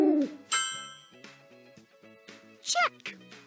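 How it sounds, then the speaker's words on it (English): An owlet hooting in a children's animal game: a few short, tonal calls ring out against musical chimes and jingles, with a bright sweeping call near the end. "Owlet."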